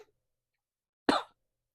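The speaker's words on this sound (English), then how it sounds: "Excuse me, I'm going to cough." A single short, sharp cough comes from an adult woman, close to the mic and isolated against silence.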